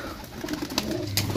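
Pigeons coo close by in low, rolling bursts, with a couple of sharper flutters or clicks in between, over a brief quiet backdrop with no talking.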